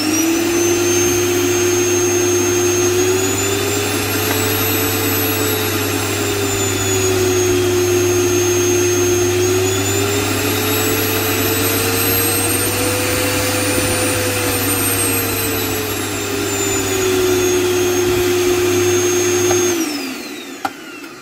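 A vacuum cleaner running at reduced speed through a speed-control board hums steadily at a moderate pitch, its tone rising and falling slightly, then cuts off abruptly near the end.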